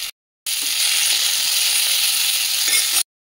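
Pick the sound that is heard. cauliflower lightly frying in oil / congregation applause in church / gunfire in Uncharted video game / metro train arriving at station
cauliflower lightly frying in oil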